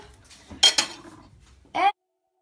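Metal cutlery clinks in two sharp bursts as a knife is set down on a surface, a quick double clatter followed by a brief later clink. Close and crisp against a quiet background.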